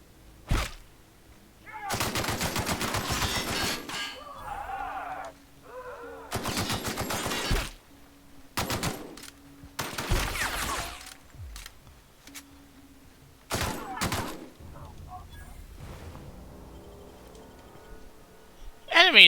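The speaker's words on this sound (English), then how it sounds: "Like no one else heard that gunfire." Gunfire from the video game The Outer Worlds comes in several loud, separate bursts with quiet gaps between them, and soft game sounds sit underneath.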